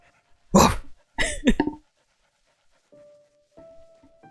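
A medium-sized dog gives a couple of sharp, close barks and quick pants, followed by quiet and a faint tonal whine.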